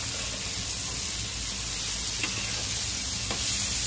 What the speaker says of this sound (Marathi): आपण आता परत दुसरी साईडची मासं फ्राय करून घेणार आहोत